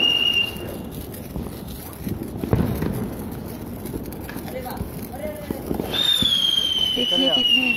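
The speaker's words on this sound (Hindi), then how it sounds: "चारों तरफ इतना ही पटाखा फोड़ रहा है।" Firecrackers pop and crackle in the distance amid a noisy Kali Puja and Diwali crowd, with a whistling rocket streaking up near the end and people chattering throughout.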